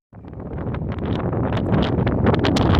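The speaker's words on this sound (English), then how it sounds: "Super windy out here." Strong wind at Green River, Wyoming roars steadily into the microphone, a dense buffeting rumble that builds slightly louder toward the end, with no voices.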